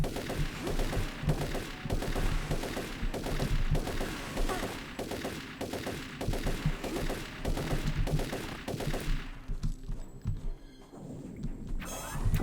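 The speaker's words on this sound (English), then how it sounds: "Shotgun's doing pretty good damage actually" A shotgun fires repeatedly in the video game Turok 3, loud booming blasts at a regular rhythm of roughly one per second, followed by a quieter stretch with faint metallic game sounds.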